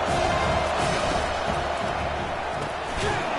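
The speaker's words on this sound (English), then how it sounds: "Decibels rising as the crowd gets behind this defense on 3rd down" Stadium crowd at a TCU versus UCF football game roaring steadily on third down, a dense, sustained wash of cheering with no clear breaks, under faint commentary.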